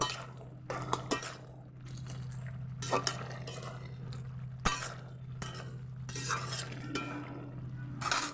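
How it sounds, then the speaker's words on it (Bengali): Fish heads stirred in a pan among potatoes and Malabar spinach, giving scattered scraping clinks of a utensil against the metal over a low steady hum, with short bursts of rattling and no talking. "মাছের মাথা দিলে দিয়ে আমি একটু নেড়ে ছেড়ে নেব"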